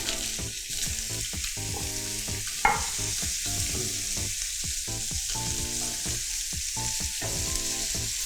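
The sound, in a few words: vegetables grilling in pan used for frying salmon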